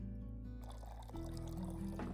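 A drink is poured in the bartending game Tavern Talk: a steady liquid pour with a rising tone as the glass fills, accompanied by soft background music and no speech.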